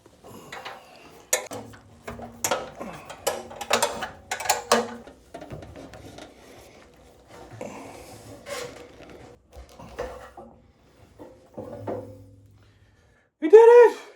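A wrench works a bolt loose on a twenty-year-old Jet jointer: scattered metallic clicks, ratcheting and clinks of a washer and tool, close up, with brief quiet gaps and a short voice near the end.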